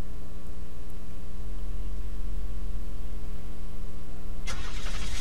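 A car engine in the survival game Unturned idles with a steady low hum, then catches and revs up sharply near the end, loud and close with no talking.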